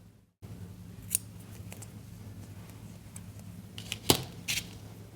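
Scissors snip through crochet yarn in a few quick, sharp cuts against quiet room tone, with one near, crisp snip early on and a couple more clustered toward the end.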